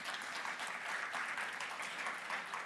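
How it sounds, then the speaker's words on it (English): Steady applause from a conference audience in Split, Croatia, dense clapping filling the whole stretch at a fairly even level with no talk on top. "Please give them a huge round of applause."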